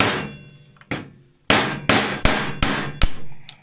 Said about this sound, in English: I'm going to get a hammer and a sharp screwdriver and cave that bushing in